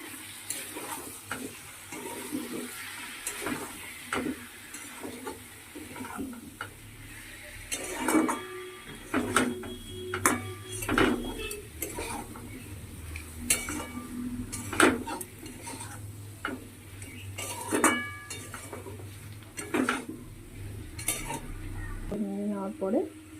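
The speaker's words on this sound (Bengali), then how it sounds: "ভালো করে ভাজার পরে একটু নুন, হলুদ, জিরে গুঁড়ো, ধনে গুঁড়ো আর আদা লঙ্কা বাটা দিয়ে দিলাম, দিয়ে একটু ভালো করে নেড়ে নেবো।" Salt, turmeric, cumin powder, coriander powder and ginger-chili paste are stirred in a pan over low frying sizzle, with repeated utensil scrapes and clinks against the metal. A faint voice is heard briefly.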